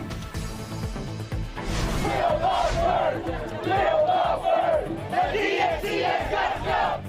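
Protest crowd outside the Democratic Convention, a dense mass of voices chanting and shouting in rising and falling waves, steady and fairly loud throughout with no single voice standing out.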